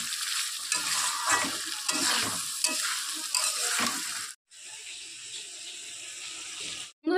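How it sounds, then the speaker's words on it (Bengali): Chopped potatoes stir-fried in a spiced masala hiss and sputter loudly as a spatula scrapes and turns them in irregular strokes, then the frying carries on more evenly with a short pause near the end. "এর মধ্যে দিয়ে দেব কেটে রাখা আলুগুলোকে। একসাথে ভালো করে এবার কষাতে থাকবো আমি।"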